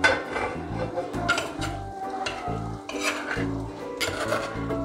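A spoon scrapes and clatters repeatedly against a pot as chicken for dry sukka is uncovered and stirred, producing rhythmic metallic knocks and scrapes over a faint sizzle, close and fairly loud.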